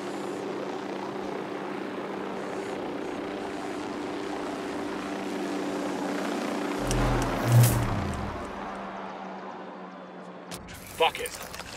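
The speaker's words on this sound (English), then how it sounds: "chopper incoming." A continuous helicopter engine and rotor hum from the video game Ghost Recon Wildlands fills the scene, swelling briefly with a low rumble midway before cutting out, with a few sharp sounds at the end.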